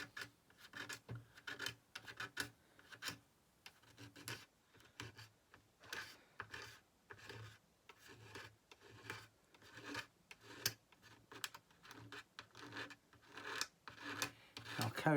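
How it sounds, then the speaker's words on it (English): A chip repair on a classical guitar scraped by hand: a long run of rhythmic rasping strokes, about two each second, close and fairly quiet with no talking. "what I'm doing is scraping it off on here"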